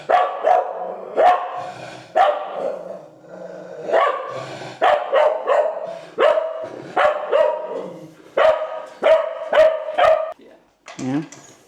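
A cocker spaniel guarding its food bowl barks repeatedly and loudly up close, sharp barks coming in quick bursts with brief pauses between them, and a whine near the end.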